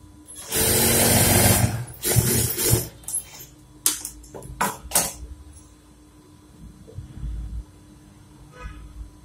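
Sewing machine stitching a half-inch pant seam, a loud rapid whirring burst first, then shorter stop-start runs and clicks, fading to quiet mechanical ticking near the end.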